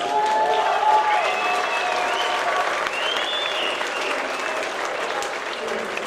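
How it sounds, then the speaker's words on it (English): A crowd applauds a young boxer at the Rumble in the Jungle 7 boxing event, with steady, loud clapping and some cheering lasting throughout. "Guys, give this kid another round of applause."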